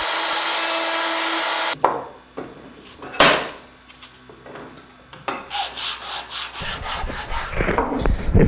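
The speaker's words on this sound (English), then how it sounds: "Using an 1/8 inch radius roundover bit, I'm going to round over the corners." An eighth-inch radius roundover bit in a router rounds over the corners of a small wooden salt or pepper shaker: a steady whine at first, then a string of short, loud bursts of cutting and rubbing against the wood, close by.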